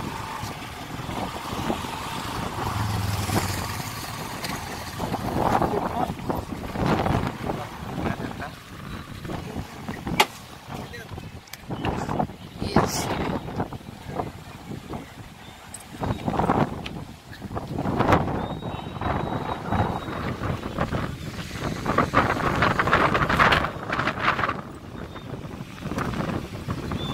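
Strong cyclone wind sweeps over Colachel beach in long, gusty roars that batter the microphone, rising and falling in heavy bursts over a constant windy rumble.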